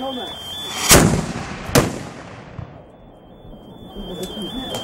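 Two loud, booming cannon blasts about a second apart, each leaving a rolling echo outdoors, with a faint tone and distant voices after.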